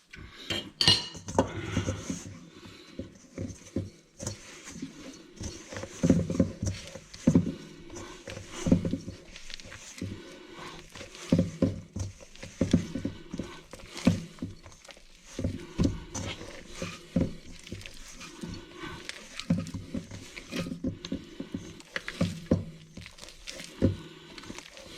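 Hands knead butter into cardamom bun dough for Swedish kardemummabullar, making a close, continuous run of soft squishing slaps and muffled thuds with occasional light clinks, with no talking.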